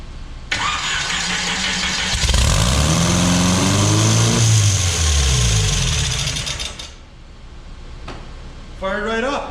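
A mini rail dragster engine with a custom intake, exhaust and fuel tank cranks and fires, then roars loudly at a high, rough idle for several seconds before dipping, with a voice speaking near the end.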